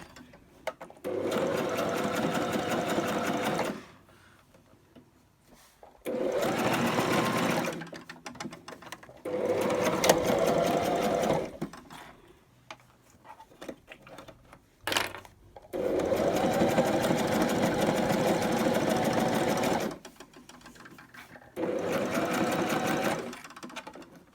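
Sewing machine stitching heavy tote bag fabric in five separate runs of steady mechanical whirring, each lasting a few seconds, with quiet pauses and small handling clicks between them, close and clear, no talking.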